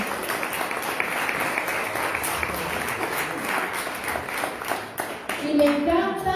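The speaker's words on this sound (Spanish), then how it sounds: "Y démosle un aplauso al Señor por eso." A church congregation applauds together for the Lord after a sermon line, a dense, steady wash of clapping that fills the room and then thins out as a voice begins speaking near the end.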